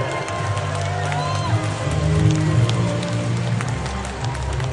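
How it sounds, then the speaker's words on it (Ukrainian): A crowd at a Youth of Europe youth-parliament gathering breaks into applause and cheering, a thick, continuous roar of clapping that holds steady for several seconds over a low background hum. "Оплески!"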